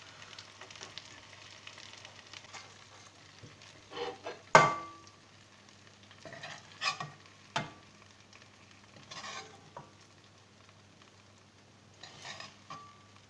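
Softened aubergine slices in a pan give a faint, steady sizzle over a low hum, broken by a few sharp clacks and scrapes as a utensil stirs and lifts them.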